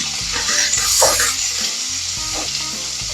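Prawn heads stir-fry in hot oil for pad thai, a loud, close sizzle with scraping stirs and a brief rising hiss near the middle, no voices.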